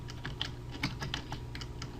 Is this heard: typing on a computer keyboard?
yes